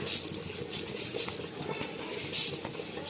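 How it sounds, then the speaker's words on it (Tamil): Coriander seeds dry-roasting in a hot pan for palak pakoda spice, a soft steady crackle and rattle with a few brighter clinks from stirring, close and fairly quiet. "கொஞ்சம் நல்லா சூடானதும் எடுத்து வச்சிருக்க கொத்தமல்லியை சேர்த்து வறுத்துக்கலாம்"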